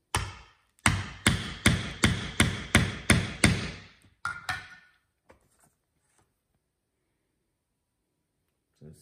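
Steady hammer blows drive a punch through two layers of leather for the strap holes on a leather sheath for a Tuatahi camp axe: about eight evenly spaced, close and loud thuds, then a few lighter taps that fade into quiet.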